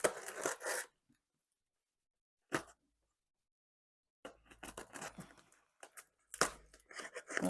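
Tough packing tape is torn off a parcel in short, rough ripping bursts separated by silent pauses, with a longer run of crackling tears toward the end.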